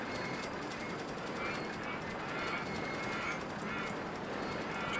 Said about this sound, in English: Trains are just cycling out of there in most beautiful fashion